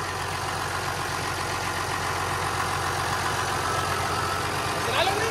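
A tractor, model 6615, fitted with an adapted throttle system, runs close by with a steady, even engine drone. A faint rising whine comes near the end, with a voice now and then.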